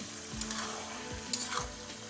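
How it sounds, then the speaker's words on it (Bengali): Duck meat being stirred in a pot over a medium flame, with a soft steady sizzle and a few low scraping strokes of the spoon against the pan, heard close and alone. "নেড়ে চেড়ে আবার ঢেকে রাখবো।"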